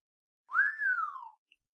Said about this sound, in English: Mr. Bundercombe whistled.